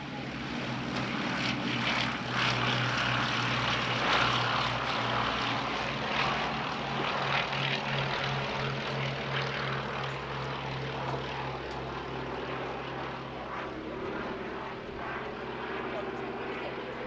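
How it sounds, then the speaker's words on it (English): A Westland Lysander and a Bristol Blenheim fly a paired display at the Duxford Battle of Britain Airshow 2025, their piston propeller engines giving a continuous, moderately loud droning roar that holds steady throughout. "Another display not repeated on the weekend was this pairing of Lysander and Blenheim."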